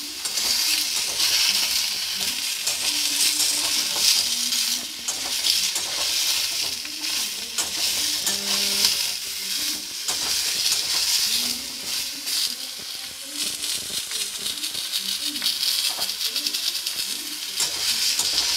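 Vegetable curry with chickpeas frying in a pan, a steady dense sizzle with repeated scraping stirs throughout, loud and close, no voices.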